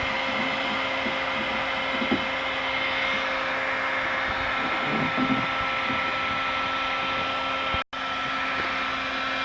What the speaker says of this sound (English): make sure you always move the heat gun around, never stay in one spot